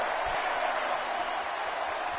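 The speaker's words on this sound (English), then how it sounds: "The crowd cheering for The Undertaker" A wrestling arena crowd cheers for The Undertaker as a steady, broad wash of cheering and applause with no distinct peaks, a voice faintly mixed in underneath.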